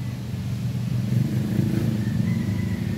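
A Honda Wave 125 motorcycle, started after years in storage, idles with a steady low engine rumble close by, running evenly throughout without talk.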